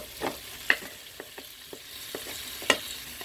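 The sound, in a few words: garlic frying in a Cookeo pot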